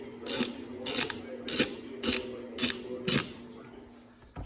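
Six quick bursts of a ratchet wrench backing off bolts during a Toyota Aristo engine swap, evenly spaced and close to the mic, with a low steady hum underneath.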